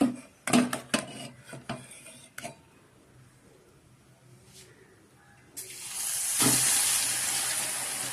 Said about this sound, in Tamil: இப்போ வந்து நம்ம காலிஃப்ளவரை எடுத்து எண்ணெயில் போடணும்